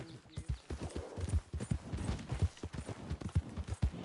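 Horse hooves clip-clop in Red Dead Redemption, a steady walking rhythm of close, thudding hoofbeats on dirt, repeating evenly throughout.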